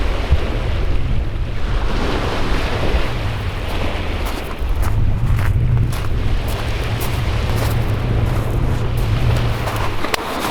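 Waves wash steadily onto a winter beach as the tide comes in, a constant loud roar of surf mixed with wind buffeting the microphone.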